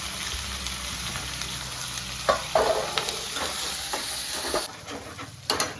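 Tomato powder and curry leaves frying in a pan for egg curry, a bright steady sizzle with a few spoon scrapes and taps, cutting briefly quieter near the end.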